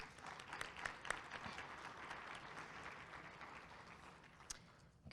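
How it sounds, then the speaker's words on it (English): Audience applause at a Chamber of Commerce monthly luncheon, a steady wash of many hands clapping that holds at moderate volume for the whole stretch, with a few sharper individual claps standing out. "So let's give them a round of applause."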